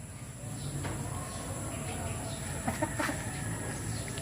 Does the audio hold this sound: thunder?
no